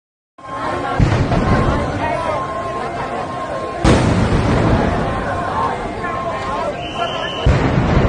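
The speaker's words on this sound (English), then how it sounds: "Not just one, but 2 to 3 explosions occurred back-to-back at the same spot, plunging the area into chaos." Two or three explosions go off back-to-back at the same spot, loud sudden blasts over a roaring, chaotic background with crowd noise.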